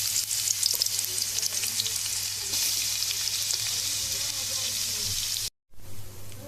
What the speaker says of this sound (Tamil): இப்போ வெங்காயம் வதங்கிட்டு இருக்கு.